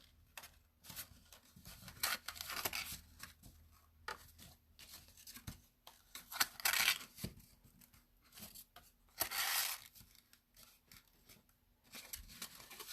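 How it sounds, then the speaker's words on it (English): Paper flaps of a paper treat chest being folded and creased by hand, soft crinkling rustles and light scraping strokes in scattered bursts, close and quiet, no talk. "Now we are going to fold these side flaps down and in."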